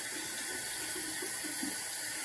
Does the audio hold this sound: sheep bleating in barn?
no